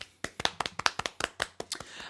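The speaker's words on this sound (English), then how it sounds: "Golf clap." A single person gives a soft, sparse round of polite clapping, about a dozen light, close claps in a loose uneven rhythm, alone with no talking over them.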